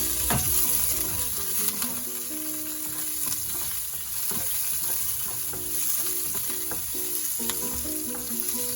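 Onions saute in a pan, with a steady, fairly loud sizzle and scattered clinks and scrapes of stirring; preparation is for sauteed pechay.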